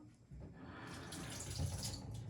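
Cold water runs from a kitchen tap while mozzarella is being made at home, a soft, continuous splashing stream that swells slightly, fairly quiet, with no one talking.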